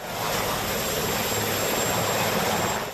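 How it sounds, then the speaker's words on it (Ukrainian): Helicopter carrying the US president and first lady setting down at Windsor, a steady, loud broadband rotor and engine roar holding throughout with no speech. "Гелікоптер з американським президентом та першою леді сідає у Вінзорі."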